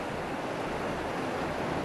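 A strong water current and waves rush in a steady, loud, broadband roar with wind buffeting the microphone, unbroken for the whole stretch and with no voices.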